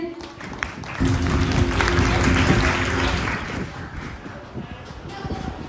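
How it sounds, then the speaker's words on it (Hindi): Audience applause after a stage performance at a cultural program, a sustained clapping wash from a hall crowd that swells and slowly fades, with a tonal hum at the start. "पिछली प्रस्तुति के लिए तालियां हो जाए।"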